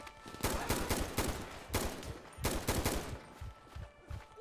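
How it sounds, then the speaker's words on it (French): Rapid gunfire from the video game GTA 5 crackles in dense volleys of sharp shots at moderate, somewhat distant level, with no talk over it. "Ok, les gars, il y a des coups de feu encore."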